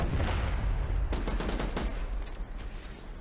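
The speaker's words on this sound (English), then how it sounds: "Frag grenade out!" Frag grenade blast in a multiplayer match of the game Batman Arkham Origins: a dense, rumbling explosion that bursts out about a second in and crackles on with debris-like bangs, loud and close, with no talking.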